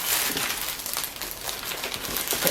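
A plastic wallet being handled at home, giving a continuous close crinkling and crackling with quick irregular bursts, loud and alone with no talk.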